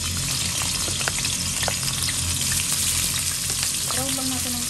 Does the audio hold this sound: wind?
no